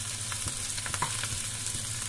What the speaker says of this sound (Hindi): आलू देखिए बस अच्छी तरह से भून गया